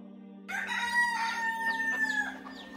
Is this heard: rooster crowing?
yes